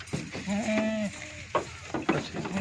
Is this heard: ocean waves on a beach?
no